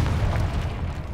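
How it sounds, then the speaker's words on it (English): Explosion from destroying an object in the Hogwarts Legacy video game, a loud, sustained low-frequency boom with rumbling debris, heard alone without talk. "Nice, good explosion."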